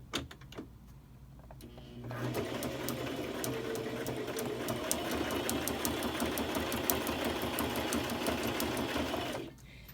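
A sewing machine runs a steady line of stitching while a small greeting card is being made, with a fast even needle rhythm that starts after a quiet moment and holds for several seconds before stopping.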